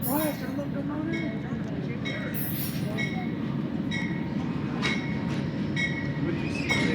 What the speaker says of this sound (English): Oh, it's a locomotive.